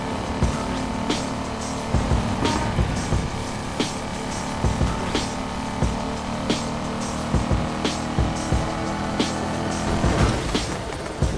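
A McLaren engine drones steadily in the racing video game Need for Speed Heat, a continuous hum and whine with repeated short clicks and thumps running through it, loud and close.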